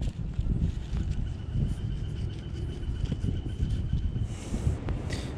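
Steady wind buffets a microphone outdoors at an abandoned farmstead in Illinois, a loud, continuous low rumble with gusty swells and no voices.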